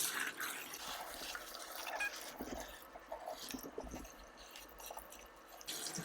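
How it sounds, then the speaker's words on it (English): Cold water runs from a kitchen tap, a steady faint splashing and trickling stream that continues for several seconds with small irregular spatters, heard alone without voices. "Gonna get some cold water."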